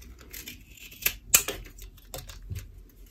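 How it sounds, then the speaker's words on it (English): Scissors snip through a cardboard toilet paper roll, cutting out ears for a dog craft, with a series of close, crisp cuts and a couple of louder snaps. "So I'm gonna cut the ears now."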